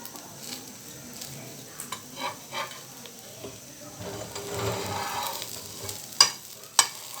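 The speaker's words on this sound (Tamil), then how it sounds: "தோசையை நான் திருப்பி போட்டேன். வெந்துட்டுருக்குது." A dosa fries on a pan over medium heat with a soft, steady sizzle, broken by a few light clatters of the dosa ladle toward the end.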